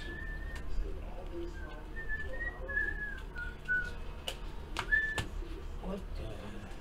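A person whistles a short, wavering tune imitating a train whistle, fairly quiet over a low background hum, with a few sharp clicks and faint murmuring voices scattered throughout.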